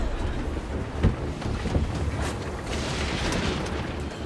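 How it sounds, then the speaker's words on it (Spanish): Storm at sea aboard a boat, with constant roaring wind buffeting the microphone and surging wash of water, plus a couple of dull thuds early on. "Debbie, hay una tormenta."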